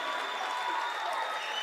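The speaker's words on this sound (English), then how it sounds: "this group gets a well-earned applause from the Copper Hills fans here tonight" Copper Hills fans at a girls basketball game against Skyridge give steady, sustained applause that fills the arena with even crowd clapping throughout.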